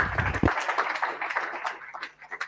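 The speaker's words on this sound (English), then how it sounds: "Then another applause, please." Audience applause in a meetup room after a technical talk on retrieval augmented generation, a dense patter of many hands clapping close by that gradually thins and fades over a couple of seconds.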